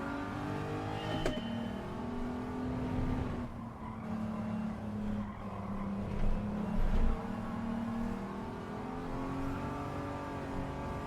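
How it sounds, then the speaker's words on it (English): Car engine droning at a steady high pitch during wheel spin in Gran Turismo 7, a continuous revving whine with tyre noise and a brief louder surge near the end, no talking. "Wheel spin."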